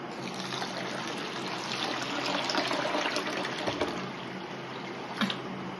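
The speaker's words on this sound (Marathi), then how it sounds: "डाळीमध्ये असं जास्त पाणी ओतायचं" Water pours steadily onto soaking moong and chana dal in a bowl, a continuous trickling gush with a few small splashes, close and even throughout.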